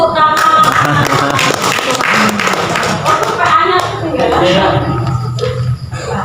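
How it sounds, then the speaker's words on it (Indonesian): Hands clap together at a small Advent gathering, a scattered burst of applause from a few people mixed with chatter and laughter, close and fairly loud. "Tepuk tangan."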